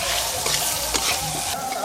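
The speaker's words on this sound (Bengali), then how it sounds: "আমগুলো একটু ভালো করে নেড়ে নিয়েছি" Raw mango pieces with salt, turmeric, dried chilli and five-spice are stirred as they fry in a pan, giving a steady loud sizzle with soft scraping strokes throughout and no voices.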